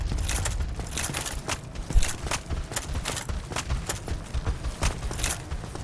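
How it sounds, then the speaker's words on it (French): Footsteps in the video game Dark Souls, a steady run of sharp, hard-surfaced steps with a clattering, hoof-like quality over a dense background, continuing throughout with no talk. "J'entends des bruits de pas."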